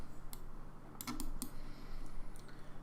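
Keys clattering on a computer keyboard, quiet and close, with a few quick bursts of taps and clicks at irregular intervals over steady room hum.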